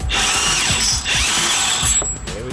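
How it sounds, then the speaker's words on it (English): A ratchet driving a 15mm socket to remove a suspension bolt during a lower control arm and spring replacement, loud rapid clicking in quick repeated bursts, close up with no talking. "This is just a 15mm socket and bolt, so we'll go ahead and use that and remove it"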